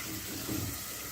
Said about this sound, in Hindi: थोड़ा सा इस स्टेज पे मैं इसमें पानी ऐड करूँगी ताकि मसाले जले नहीं।